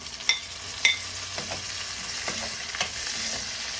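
Cut prawns are dropped into a pan of papaya stir-fry and sizzle steadily, with a couple of sharp utensil clinks near the start and softer stirring knocks after, close by and without talk.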